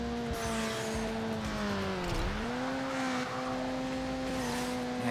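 Car engines in the racing game Need For Speed Underground Rivals, their sound glitching, rev loudly and continuously, with pitch dipping and climbing through a gear change and a faint tire squeal, with no talk over them.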